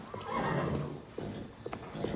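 A horse neighs with a loud whinny near the start, followed by soft clip-clop hoof steps in a short, close scene.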